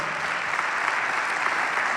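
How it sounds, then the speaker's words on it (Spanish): Dense, continuous applause fills a church hall as the congregation claps for the Lord, steady and fairly loud with no break. "Dele un aplauso al Señor"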